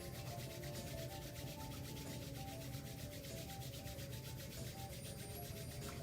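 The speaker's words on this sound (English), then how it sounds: "Let's rub our hands together." Palms rubbing briskly together during a yoga session, a steady continuous swishing friction that runs evenly for several seconds without pause.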